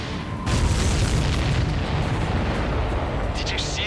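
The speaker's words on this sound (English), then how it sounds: "Did you see that explosion?" Missile striking a supply ship in Ace Combat 7, a sudden deep boom followed by a sustained, rumbling roar of the blast, loud and close, with game engine noise continuing underneath.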